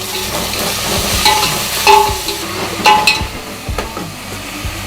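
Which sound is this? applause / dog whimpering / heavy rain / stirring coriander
stirring coriander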